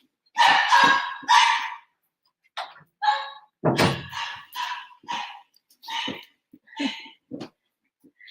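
A small dog barks repeatedly at close range, sharp yappy barks in short bursts with brief pauses between them.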